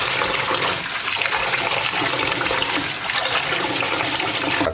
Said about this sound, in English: You want to wash this for about 2 to 3 times or until the water runs clear.